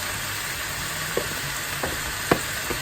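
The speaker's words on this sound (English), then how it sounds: "I am going to add 2 cups of cooked rice to this" Cooked rice frying in a pan for chicken fried rice, a steady close sizzle with a few soft scrapes and clinks of stirring.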